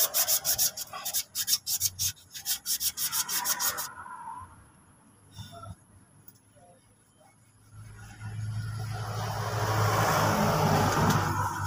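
Rapid rhythmic rasping of sandpaper scrubbing rust off a brake part, close and loud, stopping abruptly, then a quieter stretch before a steady rushing noise rises.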